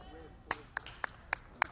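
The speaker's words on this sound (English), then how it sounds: "Give a round of applause" A few scattered hand claps at a live car auction, five sharp separate slaps spaced about a quarter second apart, fairly quiet against a soft room background.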